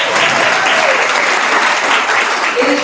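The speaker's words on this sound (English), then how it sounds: "Round of applause for that." Audience at a Suisun City community coalition launch event breaks into a full, loud round of applause, dense steady clapping sustained throughout with no talk over it.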